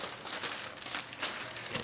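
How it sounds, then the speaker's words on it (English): Wrapping paper inside a luxe wig box crinkles and rustles steadily for about two seconds, close and fairly soft, with a few brighter crackling bursts and no talking. "has some wrapping paper"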